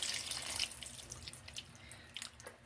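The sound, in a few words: water poured into pot of salmon head sinigang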